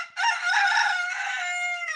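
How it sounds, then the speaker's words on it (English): A young rooster crows once, close and clear, a single drawn-out cock-a-doodle-doo lasting nearly two seconds in an otherwise quiet setting. "Yeah, he didn't try to crow. He crowed."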